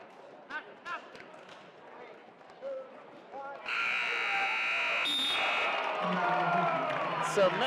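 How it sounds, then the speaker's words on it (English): A period-ending buzzer sounds at a college wrestling match, a loud sustained electronic drone over arena crowd noise and an announcer's commentary. "So Mendez picks up the two right at the buzzer."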